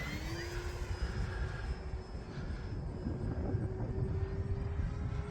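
An E-flite Focke-Wulf Fw 190A 1.5m electric RC model plane makes a high-speed pass, its propeller whine droning steadily at a distance with a slight pitch shift as it goes by, over light outdoor wind noise.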